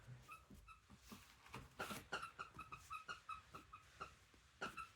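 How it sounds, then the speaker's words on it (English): A dog squeaks and whimpers in the background with repeated high, thin yips and whines in short bursts, faint and somewhat distant in a quiet room. "the squeaking is my dog in the background"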